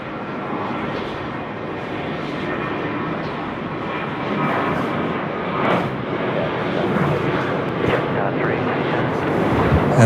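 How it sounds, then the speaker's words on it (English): Qantas airliner departing Sydney Airport for Denpasar, a loud, sustained broadband engine roar that swells slightly over time, with wind buffeting and a voice talking over it. "that is the aforementioned Qantas 43 departing to Denpasar"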